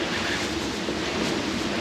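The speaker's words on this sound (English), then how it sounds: "the waves are very snotty, short period" Choppy, short-period ocean waves and strong wind around 22 knots during a squall while sailing the Alenuihaha Channel, a loud continuous roar of wash and wind buffeting with no talk.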